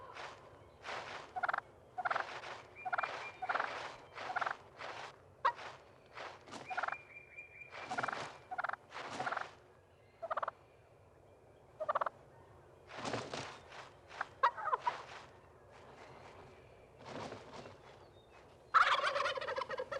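Wild turkey gobblers in a flock gobbling repeatedly in short, rattling bursts with quiet gaps between, some calls overlapping, heard outdoors at a moderate distance.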